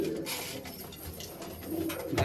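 A pair of Malwai pigeons at a loft in Baruipur coo in soft, low, repeated bursts, with a few sharper rustles and knocks scattered through.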